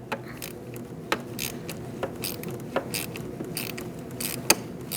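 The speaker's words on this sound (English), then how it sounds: "Going to loosen up this nut." A 10mm socket ratchet loosens the negative battery terminal nut on a 2008-2014 Mercedes-Benz C300 3.0L V6, giving quiet, quick clicking strokes with a few sharper taps, close but faint with no talk.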